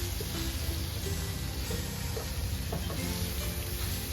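Butter melting and sizzling in a skillet while sausage gravy is being made: a steady, soft frying hiss with occasional light pops and stirring scrapes, fairly quiet and continuous.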